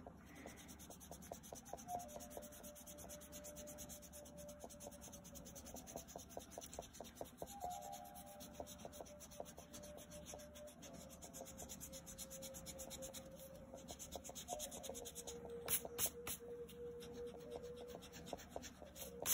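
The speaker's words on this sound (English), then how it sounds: "we're going to lightly erase all the pencil marks." An eraser rubs lightly over paper to lift pencil marks from an inked Cookie Monster drawing, a quiet rhythmic back-and-forth scrubbing that continues steadily and grows a little louder near the end.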